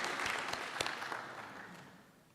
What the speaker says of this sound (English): we just give her another big round of applause